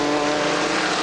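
A racing car roars past on a circuit during a club saloon car race, a loud, steady engine drone with a strong tonal whine holding for about a second.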